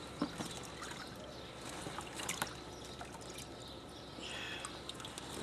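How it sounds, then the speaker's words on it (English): Water dumped out of a container in light splashes and trickles, with a few soft knocks and a brief pouring gush near the end, quiet and close with no talk. "I just dump the water any way I can now."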